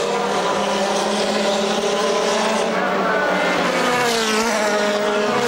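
GT race cars at Monza during a 2007 International GT Open race, engines howling loud and continuous with rising and falling pitch as cars pass, under French race commentary.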